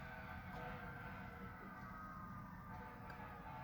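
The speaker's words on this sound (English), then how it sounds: "Sounds like fire trucks." Fire truck sirens wail faintly in the distance in a town, holding steady rising and falling tones with no voices over them.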